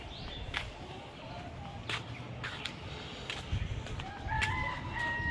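Chickens cluck and a rooster crows intermittently over a steady outdoor background, the calls fairly close and mid-loud.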